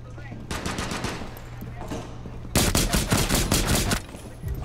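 Rapid pistol gunfire in Rainbow Six Siege on the Kafe Dostoyevsky map, with bursts of close, loud shots under a constant hum that grow heavier and denser in the second half.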